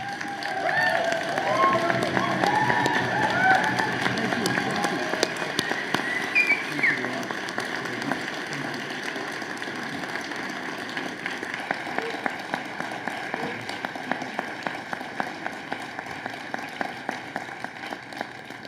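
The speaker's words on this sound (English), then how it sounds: "give a loud, boisterous round of applause and thanks to Dr. Robert Martin" Audience applause at a college commencement ceremony, loud and sustained with dense clapping and crowd noise, a few cheers early, then gradually thinning into steadier clapping.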